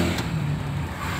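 A 1994 Toyota Kijang carburetor engine pulls in fifth gear with a low, steady rumble that holds at an even level for a brief moment.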